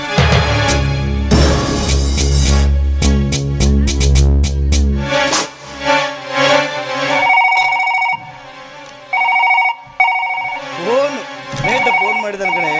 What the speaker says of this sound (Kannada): ಫೋನ್ ಮಾಡಿದ ಕಣೆ.